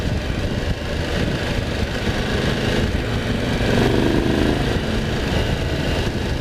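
A Triumph Tiger 1200 GT Explorer motorcycle engine runs at a steady idle, chugging close by with a slight rise in revs midway.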